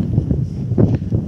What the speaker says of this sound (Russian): Ой-ой-ой-ой, какой ветрыган.